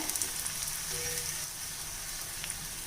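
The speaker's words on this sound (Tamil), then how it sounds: "இந்த மாதிரி மீடியம் ஃப்ளேம்லேயே வச்சு வேக வச்சு எடுங்க நல்லா செவந்துருச்சு பாருங்கள்" Raw plantain slices fry in oil over a medium flame, giving a dense, even sizzle that stays close and constant, with no voices.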